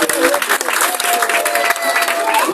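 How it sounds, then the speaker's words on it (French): Applause for a student who has just presented computer hardware at a school event, a dense, steady burst of clapping from a roomful of people, loud and continuous, with a faint voice or tone briefly audible beneath it. "Vos applaudissements pour l'élève qui vient de nous présenter le matériel."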